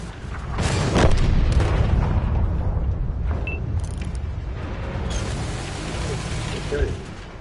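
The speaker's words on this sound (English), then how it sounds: "Oh, artillery, please leave me alone." Artillery shells land in a World of Tanks console battle: a loud, sustained rumble of booms and mechanical clatter, swelling early and holding steady, with a sharp crack near the end.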